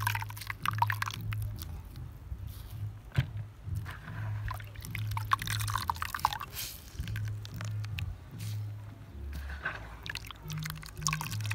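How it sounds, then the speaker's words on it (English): Grated coconut squeezed through a strainer to separate the milk, outdoors in an African village, with soft wet squelches and drips recurring close by in an uneven rhythm. "We have to strain the coconut to separate the milk from the waste."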